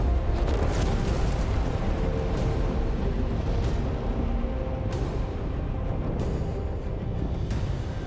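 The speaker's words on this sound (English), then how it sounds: "Wee, fireworks." Video-game explosions bursting like fireworks in Warhammer 40k: Space Marine 2, a loud continuous rumble punctuated by several sharp blasts across the stretch.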